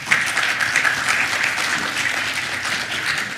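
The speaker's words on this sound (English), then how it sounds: "A round of applause to our incredible speakers and moderator" Audience at a plenary forum session clapping for the speakers and moderator, a steady dense wash of applause from many hands, sustained and fairly loud throughout with no voices over it.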